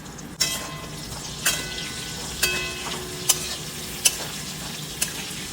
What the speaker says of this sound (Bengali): এবারে আমি আলুটার মধ্যে নুন আর হলুদ দিয়ে দিচ্ছি, নুন হলুদ দিয়ে ভেজে নেব